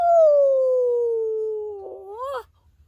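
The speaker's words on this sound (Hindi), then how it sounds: "तभी एक साथ सैकड़ों गीदड़ों की आवाजें" A jackal howl plays as a horror-story sound effect: a single clear, wavering cry that slowly falls, then rises and breaks off after about two and a half seconds. It is fairly loud and heard alone.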